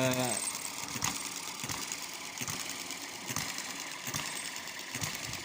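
A small hit and miss model internal combustion engine runs fast with a rapid, even mechanical clatter of steady firing beats. Someone talks over the running engine.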